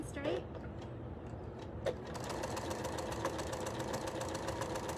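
An electric sewing machine starts up and runs a steady, fast, close stitching whir after a brief pause, with faint background voices in a sewing shop.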